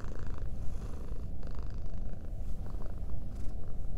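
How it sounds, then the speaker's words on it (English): A black and white cat gives a rich, satisfied purr, a continuous low rumbling with a steady rhythm of breaths, close and loud with no talking over it. "satisfied purr."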